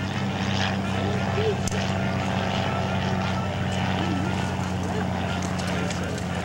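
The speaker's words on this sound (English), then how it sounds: "That's a biplane aircraft." A PT-23 primary trainer aircraft at a warbirds airshow drones steadily with a propeller engine roar that holds throughout, with a faint background voice and a brief sharp click partway through.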